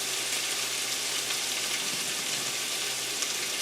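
Onions caramelizing in a pan for a kielbasa and apple sauce dish give a steady, close, unbroken sizzle and hiss with no pauses.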